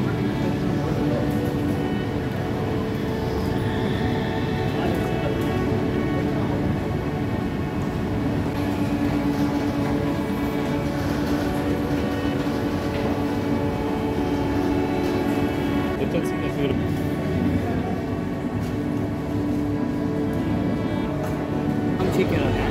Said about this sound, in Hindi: ट्रेन निकलने वाली थी